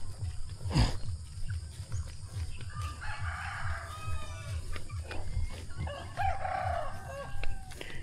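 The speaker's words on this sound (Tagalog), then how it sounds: "Daming chicken oh, native to yung mga chicken" Native chickens on a rice farm crow and cluck in two clear bursts, with a faint call in between, over steady low outdoor rumble. No one speaks.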